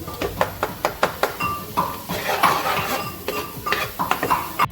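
Green chilli, garlic and ginger paste fries in a pan for paneer tikka masala, with a rhythmic series of spoon knocks and scrapes against the pan over a steady close sizzle.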